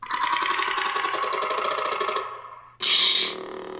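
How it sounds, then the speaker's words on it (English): A YCSabers Anakin Skywalker lightsaber replica plays its Hunter ignition effect: a loud buzzing, mechanical ramp that holds for about two seconds and drops away, then a bright, sharp ignition burst settles into a steady low hum. "So here is Hunter ignition."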